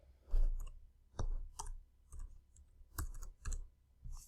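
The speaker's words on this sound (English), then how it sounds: "Oops, I'm typing in the wrong spot" Irregular bursts of typing on a computer keyboard, clustered clicks of keys with short pauses between, close and fairly quiet with no voices.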